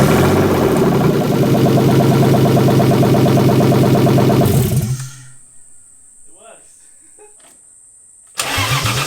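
A rebuilt BMW E36 M50 engine starts for the first time, running loud and steady for several seconds before cutting off into near silence with faint sounds, then roaring again at the end.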